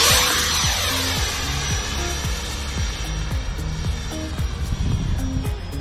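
A Kfir 70mm electric ducted-fan RC jet model on its maiden flight, a loud steady whine and roar passing close overhead with shifting pitch, plus wind buffeting throughout.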